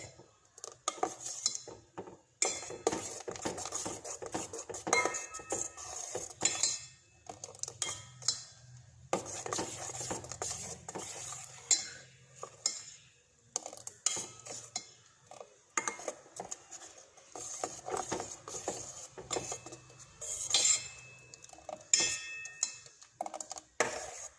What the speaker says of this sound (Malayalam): ഇങ്ങനെ ഇളക്കി കൊടുത്തുകൊണ്ടിരിക്കണം